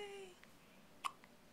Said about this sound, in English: Look at your hiccups.